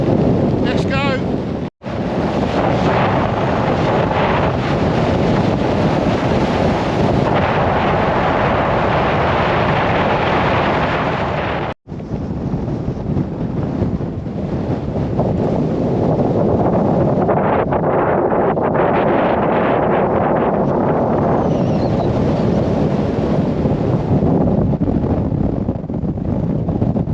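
Strong wind on an open hilltop buffets the microphone with continuous loud roaring gusts for the whole stretch, broken by two brief dropouts, with a voice faintly audible under it.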